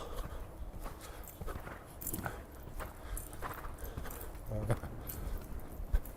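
A horse walks with steady clip-clop hoofbeats during a riding lesson in an arena, footfalls fairly close and regular while an instructor talks over them.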